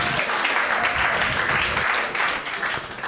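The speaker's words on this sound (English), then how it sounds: "you can clap it up for that" Steady, dense applause from a stand-up comedy audience fills the whole stretch, loud and continuous with no break, with a faint crowd murmur mixed in.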